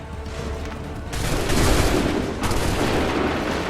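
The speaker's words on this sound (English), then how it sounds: "Open fire!" Musket volley gunfire in an Assassin's Creed 3 cutscene: dense, loud overlapping shots and booms that build into a sustained roaring fusillade lasting several seconds, with no talk over it.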